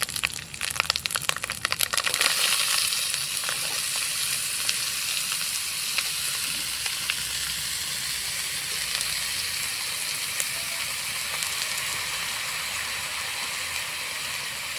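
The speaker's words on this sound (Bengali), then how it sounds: "আদা বাটাটা ফোড়নের সঙ্গে ভেজে নিলাম এখন কেটে রাখা চাল কুমড়ো দিয়ে দেবো" Cut ash gourd added to ginger paste and tempering spices in a hot pan, producing a loud, steady close sizzle of frying, with a few crackling clatters at the start and no talk.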